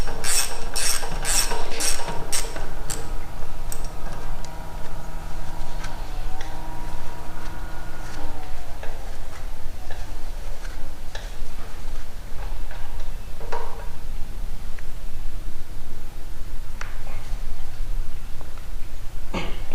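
Torque wrench ratcheting and clicking while tightening a front wheel bolt on a Kubota tractor, a quick run of sharp close clicks early on, then scattered mechanical ticks and knocks.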